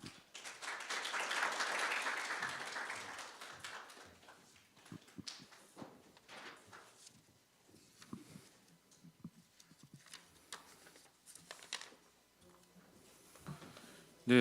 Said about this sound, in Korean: 여러분 차관님을 따뜻한 박수로 맞아주시기 바랍니다